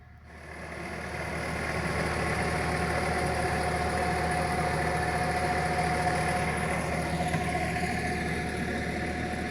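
A tractor engine idles steadily beside a riverside camp near the Tamiš, a continuous low rumble with a faint mechanical whine, running alone without talk for the whole stretch.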